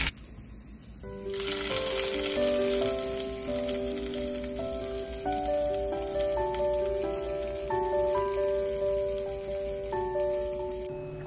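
A hot curry-leaf tempering is poured into crab masala curry and sets off a sudden burst of hissing sizzle. The sizzle stays steady and fairly loud, with a tonal melody playing underneath.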